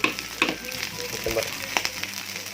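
Spicy nasi goreng fries in a pan, a soft continuous sizzle with scattered clinks and stirring scrapes, fairly close and quiet.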